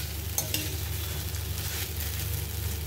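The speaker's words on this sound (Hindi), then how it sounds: "अच्छे से भूनना है, ये तो भून करके तैयार हो गया है" Food for a spiced breakfast dish roasts in a pan, giving a soft, constant sizzle with a few light scraping stir sounds near the start, all quiet and without any talking.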